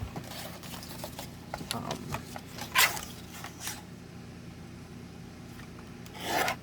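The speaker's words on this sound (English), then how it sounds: "it needs to be done with the guillotine so it's nice and straight" Paper trimmed on a guillotine cutter for a box-fold card, heard as rubbing and rasping slides with a sharp cutting crunch near the middle and another toward the end, close and moderately loud.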